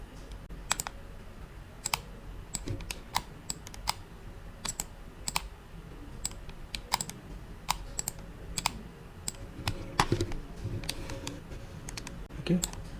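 Computer keyboard keys pressed in a steady stream of sharp, close clicks, single strokes and quick runs with brief pauses, over a faint room hum.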